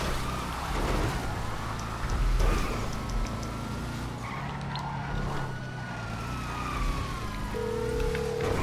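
A police siren wails through a video game chase involving a flying motorcycle, its rising and falling tone sweeping steadily over a constant engine drone and continuing loud for the whole stretch.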